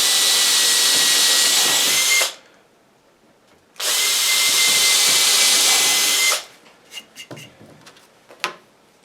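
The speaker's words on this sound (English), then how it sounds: "we're definitely going to drill a pilot hole" A handheld power drill bores pilot holes for countersink screws in two sustained whirring bursts separated by a short pause, followed by a few light clicks and handling taps.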